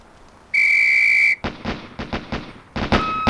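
A single loud, steady whistle blast in the Police Quest SWAT video game, used as a signal on the firing range, followed by a quick run of sharp gunshots and a final burst of shots.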